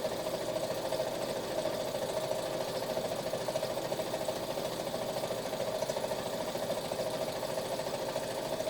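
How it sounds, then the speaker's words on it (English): A sewing machine running steadily while free-motion quilting around leaves through polyester wadding, a constant even mechanical hum with fast needle chatter, close and moderate. "I'm just going to quilt now, just loosely, around the leaves and the outside, and just free machining"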